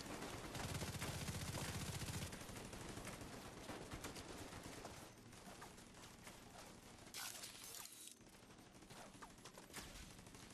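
Sustained turret gunfire in The Division 2, a loud continuous barrage of rapid shots with impacts and shattering debris, heaviest at the start and then carrying on steadily throughout.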